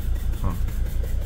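Mercedes T1N Sprinter diesel engine idling roughly with a leaking injector, a low uneven throbbing rumble that wavers in a loose rhythm, fairly quiet and close, with no talk over it.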